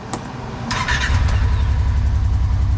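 A Kawasaki Teryx 4 utility vehicle engine, freshly fitted with new spark plugs, cranks briefly and catches, settling into a steady, close, rumbling idle.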